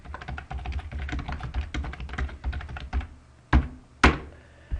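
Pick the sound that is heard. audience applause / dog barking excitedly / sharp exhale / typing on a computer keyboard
typing on a computer keyboard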